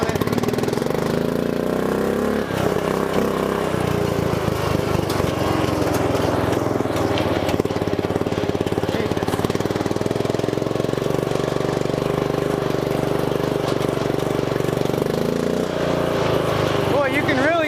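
Off-road mower with a swapped-in engine replacing the original flathead, revving loudly and steadily with a strong intake rush of air, close and continuous throughout, with speech mixed in.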